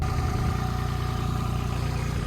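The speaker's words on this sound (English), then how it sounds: "I've got the engine just idling there just to warm the engine oil through because the machine was cold" A cold machine's engine idles steadily to warm its oil ahead of a 500-hour service, giving a constant, even low throb close by with no change in speed and no voices.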